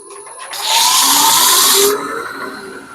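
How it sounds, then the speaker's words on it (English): A wood lathe spins a crush grind peppermill blank during sanding, giving a loud steady whine and hiss that swells for about a second and then settles back to a lower running hum. "And I'll just run this up just to support it while I do some sanding."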